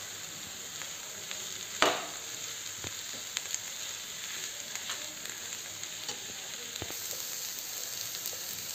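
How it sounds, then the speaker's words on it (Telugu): Soya chunks (meal maker) drop into a hot pan of gongura soya curry and are stirred, giving a continuous close sizzle with scattered crackles, scraping stirs and one louder clatter near the start. "ఇప్పుడు ఈ మిల్ మేకర్ వేసుకొని కలిపేసుకుందాం."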